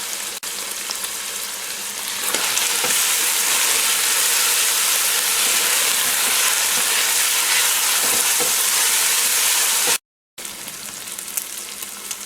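Chili powder sizzling and frying in hot oil in a wok while making ma-po tofu, a steady loud hiss with stirring scrapes, cutting out briefly near the end before resuming.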